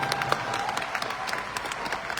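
An audience at a motivational leadership event breaks into lively applause, a busy crackle of many hands clapping at close range with steady loudness throughout.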